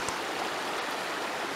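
A small mountain creek flows steadily and close by, a continuous broadband rush of water with no voices over it.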